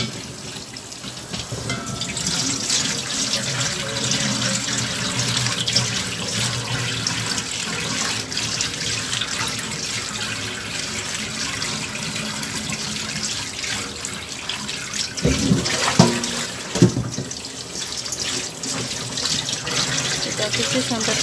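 Celery stalks being washed under a running kitchen tap, a steady rush of water into a sink with brief splashy handling bursts partway through, close and continuous.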